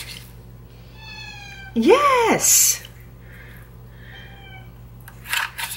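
Pet cats meow insistently before morning feeding in a kitchen: a long, rising and falling meow, loud and close, then fainter mews. A person speaks briefly in between.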